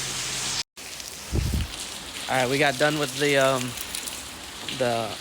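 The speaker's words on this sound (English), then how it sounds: "It is raining pretty hard out here." Steady, heavy rain hisses throughout at a Japanese onsen, with someone talking over the downpour.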